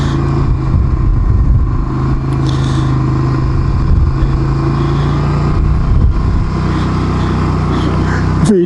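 Quads and dirt bikes ride past near a campground at Ripley Lake near Oliver, BC, their engines making a continuous loud rumble and buzz with rising and falling revs close by.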